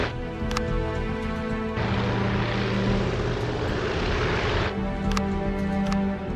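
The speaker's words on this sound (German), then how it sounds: "So, Flugzeuge kommen hier schräg rüber." Aircraft fly over in the Panzer Tactics HD strategy game, a steady engine drone that swells into a louder, broader roar for a few seconds before settling back, with no talk over it.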